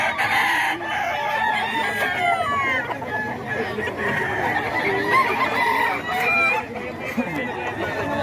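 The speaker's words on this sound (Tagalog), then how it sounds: "Maraming manok lagi si Boss Rod." A rooster crows repeatedly over steady chicken clucking from a flock, close and fairly loud, with some faint human voice in the background.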